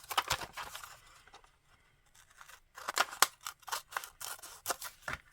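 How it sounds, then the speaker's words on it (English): Scissors snip through thin book pages while paper backgrounds are trimmed for handmade Valentine's Day postcards, a run of quick close crisp cuts, then a pause, then a rapid series of clipping snips, with no talking. "These thin book pages are just so easy to trim out when you use them as your base for your background."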